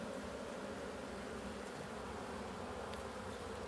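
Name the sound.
honey bees in the hive Ostia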